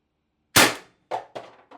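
An Umarex TR68 launcher fires an LLB Guardian 7.5g projectile: one loud, sharp pop up close, followed by three quicker, fainter clanking knocks.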